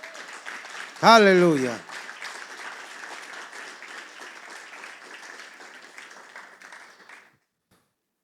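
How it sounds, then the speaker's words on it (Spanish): A church congregation claps in steady, moderately loud applause for several seconds, a voice shouting praise near the start, before the clapping stops abruptly. "Dale un aplauso fuerte al Señor."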